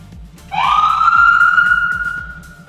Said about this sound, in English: Is there a siren? Yep.